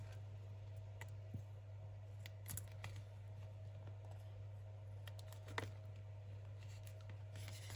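Scissors snip through paper for a junk journal craft, a scattering of faint, sharp cuts over a steady low hum in a quiet room.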